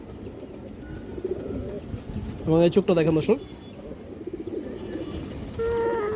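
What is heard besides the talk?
Giribaz pigeons cooing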